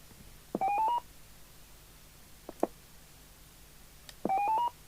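Keypad tones from the handset of a Cobra 75ST CB radio under repair: two short dual-tone beeps about four seconds apart, clear and close, with faint clicks in between and no talk.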